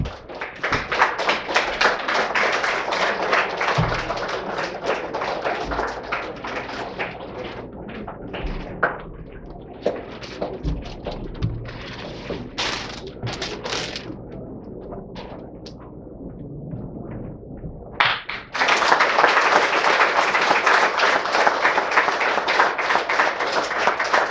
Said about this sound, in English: please rise and give a big round of applause for IASMS newsletter Imprints